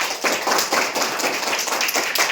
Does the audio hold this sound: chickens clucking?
no